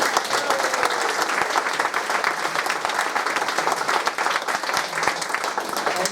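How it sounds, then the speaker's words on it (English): A crowd applauds continuously, dense clapping filling the room at a steady loudness without pause. "a big round of applause for Pooh"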